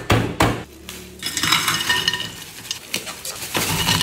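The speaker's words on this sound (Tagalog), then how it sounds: "First, ice." Ice cubes clatter into a glass as a Blue Hawaiian cocktail is started, a quick burst of hard knocks and rattling clinks, close and fairly loud, with no talk.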